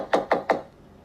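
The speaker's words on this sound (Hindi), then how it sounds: "तभी उसके घर का दरवाज़ा खटखटाने की आवाज़ आती है" Three evenly spaced, loud knocks on a wooden house door, close and dry with a short ring after each, then quiet.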